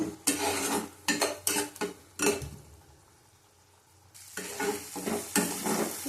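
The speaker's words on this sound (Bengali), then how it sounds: "ভালো করে কষিয়ে নেবো" Chili-powder spice paste stir-fried in a pan for a spicy tengra fish curry, bursts of sizzling and spatula scraping in rhythmic strokes, a quieter pause midway, then stirring resumes.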